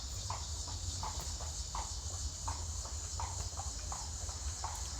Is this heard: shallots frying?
no